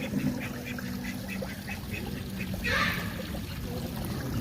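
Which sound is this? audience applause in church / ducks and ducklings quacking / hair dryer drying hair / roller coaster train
ducks and ducklings quacking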